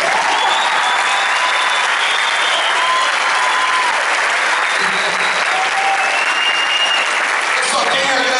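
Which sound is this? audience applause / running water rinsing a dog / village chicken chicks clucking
audience applause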